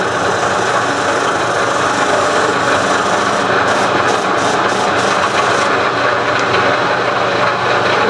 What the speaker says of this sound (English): It's just a matter of buffing.